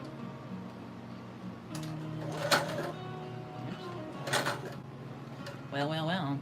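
A sewing machine stitches a doll, its motor running in short uneven bursts with mechanical rattling, close and fairly loud, and a voice talks between the runs.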